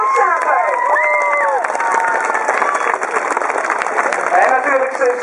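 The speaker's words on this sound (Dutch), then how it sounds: "Zullen we even een applaus meegeven?" A crowd cheers, shouts and applauds a Dutch Olympic silver medallist at a homecoming celebration, with a loud, steady roar of voices, whistles and clapping throughout.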